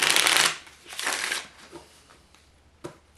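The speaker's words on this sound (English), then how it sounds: "So I'm just going to shuffle up the cards." Gypsy Witch fortune telling playing cards are shuffled up close, a loud riffling burst followed by a second softer riffle and a few quieter taps and slides of the deck.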